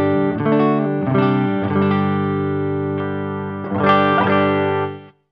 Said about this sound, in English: I'm running into the front end clean channel of an MI Audio Iron Duke amplifier.